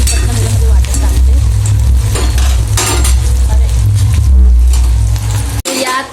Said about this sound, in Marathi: मी पटकन त्यामध्ये वाटण टाकते.